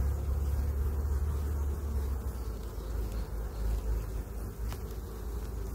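Honey bees buzzing around an open beehive during a hive inspection, a dense, steady drone of many wings close by, continuous and unbroken with no talk.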